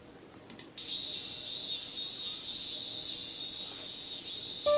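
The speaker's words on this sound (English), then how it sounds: "Burning sunlight and the sounds of cicadas" Cicadas drone in a hot summer scene from a visual novel, a loud, continuous high-pitched buzz that starts abruptly after a few brief clicks and holds steady throughout.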